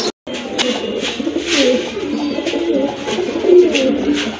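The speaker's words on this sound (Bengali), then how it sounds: "মাশাআল্লাহ শিবলু ভাই বলছিল যে 3 জোড়া রেসার কবুতর রয়েছে।" Racer pigeons coo softly and repeatedly at close range, their rolling calls overlapping in a continuous murmur with no voices.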